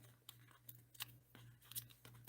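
Scissors snip through a paper card sentiment in a quiet crafting setting, several soft, irregular cuts spaced across a few seconds at close range, faint and unaccompanied.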